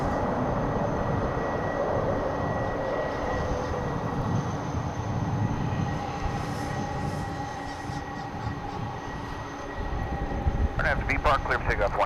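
An MD-11 jet rumbles on the runway at DFW International Airport, a loud, steady engine roar that fills the scene, with a voice talking over it.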